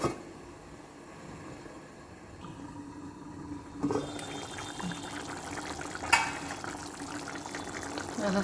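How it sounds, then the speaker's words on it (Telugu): Vadiyala pulusu curry bubbles in a covered pot, a soft steady simmer that swells partway through, with a couple of light clinks of the lid or pot, quiet and close. "వీటిని కొంతసేపు ఉడకనియాలి"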